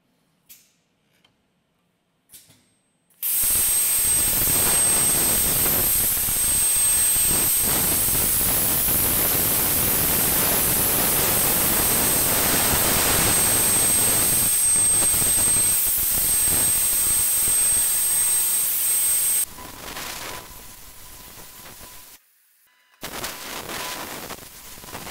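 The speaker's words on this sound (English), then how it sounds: "I'm going to plasma some circles out to fit inside there" A plasma cutter slicing circles out of steel plate in a workshop, a loud steady hissing roar held for about sixteen seconds with a high whine, starting after a few clicks and ending abruptly, followed by quieter shop noise.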